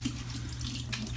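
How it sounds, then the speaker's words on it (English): Cool tap water runs steadily over potatoes in a sink during hash brown preparation, a continuous close splashing stream ending in a brief louder gush. "Run us a little more cool water right there on top."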